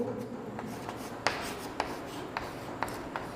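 Pen or chalk writing out the law of universal gravitation, close scratchy strokes with several sharp taps as marks are made, steady and moderately quiet.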